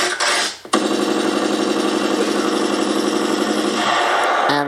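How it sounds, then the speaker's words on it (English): A sustained burst of rapid automatic AK-47 rifle fire rattles loudly and continuously for several seconds, close by, with a short break near the start. "And that's the sound of it, AK-47"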